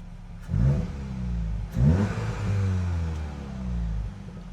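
A 2024 VW GTI, repaired after a wreck and a transmission install, runs loud and close, its engine rising in two sharp revs over a steady running drone.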